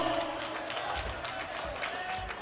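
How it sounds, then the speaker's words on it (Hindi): A large crowd at a protest rally on Ramlila Maidan in New Delhi claps continuously, heard from a moderate distance as a steady rattling wash with voices murmuring underneath. "जोरदार तालियों से उनका स्वागत और सम्मान"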